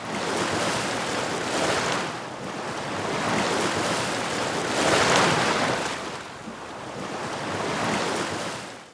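Ocean waves wash steadily onto a glittering olivine beach in a narrow bay on Hawaii's Big Island, with loud, close surf rising and falling in broad swells and wind noise running underneath, without voices.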